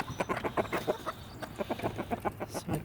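Hens and roosters cluck in a busy, rhythmic flurry as a backyard flock of about twenty, five of them roosters, is let out to work a compost pile; the calls are close and overlapping, with no talk.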